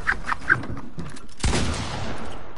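Rapid gunfire from a video game battle, a few quick bursts early on, then a louder crack and a noisy volley that tails off, close and fairly loud with no talk.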